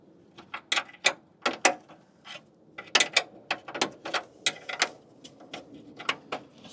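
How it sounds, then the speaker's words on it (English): Spanner working 10mm bolts off brackets on a 200Tdi Land Rover 110 during an intercooler fit: a close series of sharp metallic clicks and ratcheting taps in irregular bursts, with no talk. "I'm just going to use the trusty old spanner."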